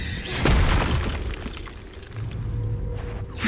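A fire spell cast in Hogwarts Legacy gives a loud whooshing burst with a low boom, then a crackling burning tail that fades and swells again over a few seconds.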